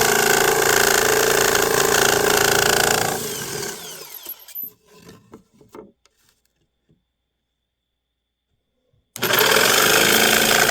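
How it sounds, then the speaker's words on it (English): Jigsaw cutting a slot into a can held in wood, a loud, steady buzzing saw that runs for about three seconds, then falls into scattered clicks and quiet, and comes back abruptly at full loudness near the end. "I'm just going to take my jigsaw to make a cut to hold the can."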